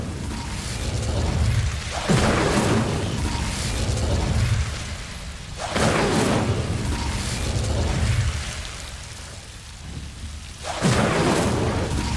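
Incendio fire spells cast in the video game Hogwarts Legacy against Devil's Snare, three loud whooshing, roaring blasts spaced several seconds apart, each swelling and fading into a crackling, rumbling bed of ambience.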